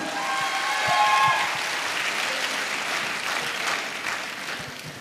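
Loud audience applause at a large network-marketing team event fills the whole stretch with dense, sustained clapping from a crowd, swelling early then holding steady, with a few tonal whistles or cheers near the start.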